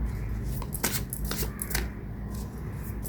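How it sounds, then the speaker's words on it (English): Tarot and oracle card decks shuffled by hand in several close, crisp riffling bursts over a low steady background, with no talking. "I have the tarot and oracle decks here. I have shuffled them earlier, but let's do this once again."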